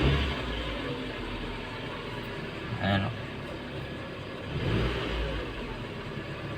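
A Suzuki APV van engine runs steadily at a low, even hum, with brief louder swells and a short spoken word over it.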